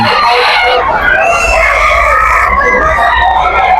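A rooster crows loudly and keeps going over dense market noise at the Bocaue pet market, with other fowl clucking nearby and people talking in the background.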